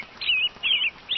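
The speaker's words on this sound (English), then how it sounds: "2 angry robins shrieked overhead." Two robins shriek overhead in three sharp, bright bursts of high chirping calls, each about a quarter second long, fairly close and clear with no talking.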